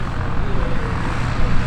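A Stearman biplane at Oshkosh AirVenture drones past with a dense, steady propeller-engine roar that fills the short stretch at close range.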